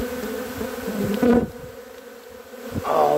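A dense swarm of bees buzzes steadily up close, a continuous droning hum that swells and shifts as insects pass near.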